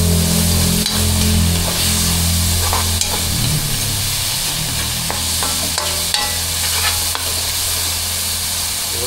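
Food stirred and frying in a little cooking oil, apparently mango with shrimp paste, giving a steady close sizzle with scraping stir strokes throughout, no talking.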